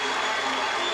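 Spectators at the 1990 Little 500 bike race cheer and applaud in a dense, continuous crowd roar, loud and sustained across the brief moment.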